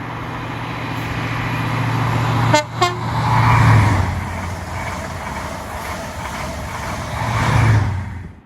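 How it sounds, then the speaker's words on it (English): A Class 43 HST on a Plymouth to Glasgow service passes South Wingfield station, sounding two short, loud horn blasts over a steady rumble of passing engine and wheel noise that swells again near the end. "This is a Class 43 HST on a Plymouth to Glasgow service, currently running 24 minutes late as it passes South Wingfield station."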